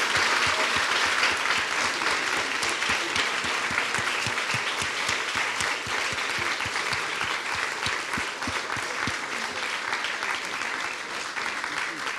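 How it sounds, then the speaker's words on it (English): Audience applause at a book festival, dense sustained clapping from a large seated crowd, loud and even for the whole stretch and slowly tapering near the end. "Can we please give a wonderful round of applause to..."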